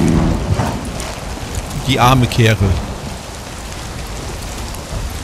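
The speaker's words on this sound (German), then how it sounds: "Durch, bei Gewitter." Steady heavy rain with a low rumbling thunderstorm wash in the video game Avatar: Frontiers of Pandora, loud and continuous, with someone speaking briefly over it.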